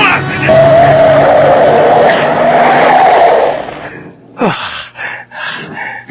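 A car's tires skid loudly as a truck pulls out from the right and nearly hits it, a long sustained screech ending abruptly, followed by a few short bursts of voices or sounds.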